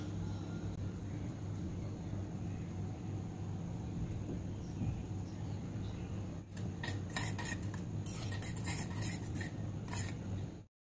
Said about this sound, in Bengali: আর এই দুধের মধ্যে মেশাবো অল্প একটু স্যাফরন।